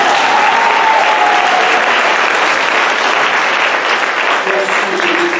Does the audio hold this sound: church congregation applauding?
yes